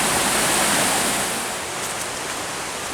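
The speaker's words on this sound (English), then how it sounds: "wow, look at that little waterfall going on" Steady, loud rushing of a small waterfall in a forest stream in the Cranberry Wilderness of West Virginia, a continuous broadband splash heard close up with no voices.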